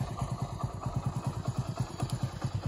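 A motorcycle engine running at night on a farm, thumping in a steady, rapid rhythm with a low mechanical beat, close and moderately loud, with no talking.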